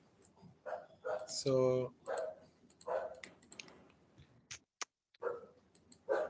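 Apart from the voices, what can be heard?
dog barking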